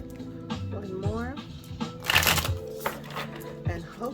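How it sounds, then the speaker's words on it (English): Tarot cards being shuffled for a pick-a-card reading, soft riffling and flicking with a sharper snap partway through, heard up close beneath a quiet speaking voice. "One more shuffle."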